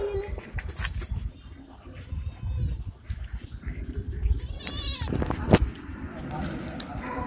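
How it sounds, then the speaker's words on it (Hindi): Several goats bleat at a farm while someone talks nearby, with a sharp bleat standing out near the end among rustling and general outdoor noise. "बकरियां।"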